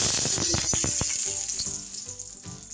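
Black cumin seeds and dry red chillies sizzle in hot oil over a low flame, starting with a busy crackle of small pops and spits that slowly thins into a softer, steady fizz.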